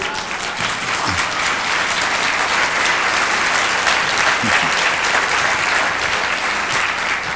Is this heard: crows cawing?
no